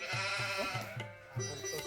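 A goat bleats several times in quick succession, loud and close, the wavering cries following one another without pause.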